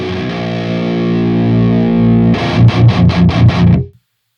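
A distorted metal guitar through the Audio Assault Hellbeast amp simulator with its depth knob turned down rings out a sustained heavy chord, then chugs out a run of rapid palm-muted hits before cutting off abruptly.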